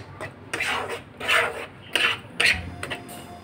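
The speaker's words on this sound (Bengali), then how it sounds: "আমটা আগে একটু নাড়াচাড়া করে নিচ্ছি।" A spoon scrapes and clinks against a bowl while ripe mango pulp is stirred, giving four or five separate scraping strokes with short quiet gaps between them, close and fairly soft.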